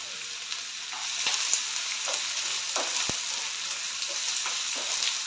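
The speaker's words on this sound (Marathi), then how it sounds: "कांदा आपला चांगला फ्राय होऊ देऊया" Two medium finely chopped onions frying in hot oil for spicy masala prawns, giving a continuous even sizzle with a few soft stirring knocks, close and alone.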